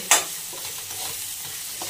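Chopped potatoes dropped into a hot pan of oil in a home kitchen, a sharp burst of sizzle at the start settling into a steady, close frying hiss.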